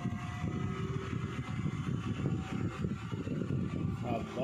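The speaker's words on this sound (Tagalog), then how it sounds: "Andar na yung motor." Small 12V motor of a homemade water-cooled radiator portable air conditioner running steadily, a continuous low hum and whir close by with faint background noise throughout.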